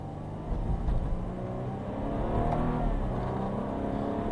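Four-cylinder engine of a BMW 228i running steadily, a low continuous hum with a slight swell in revs, heard close up with no talking.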